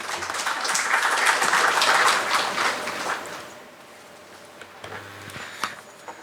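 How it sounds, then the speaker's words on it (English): An audience at a book release event in Mumbai claps for a lyricist, a dense burst of applause that swells, holds, then thins out into scattered claps and faint room noise toward the end. "Huge round of applause."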